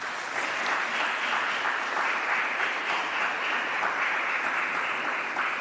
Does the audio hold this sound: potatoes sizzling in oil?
no